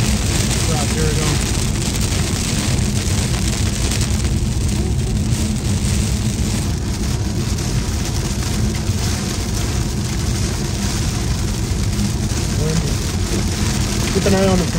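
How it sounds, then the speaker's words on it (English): Heavy rain and hail pound a car during a thunderstorm while driving on an interstate in southern Georgia, a dense, steady roar throughout with people talking over it. "Hail."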